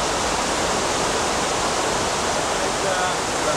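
A waterfall pours out of a cave near the village of Mezmai, a loud, steady broadband roar of rushing water filling the whole stretch without pause.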